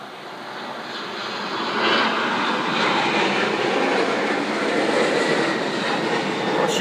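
A Spirit Airlines Airbus A320 jet roars on takeoff, its engine noise swelling over the first couple of seconds and then holding as a loud, steady, broadband rumble and whine heard from outdoors at a distance.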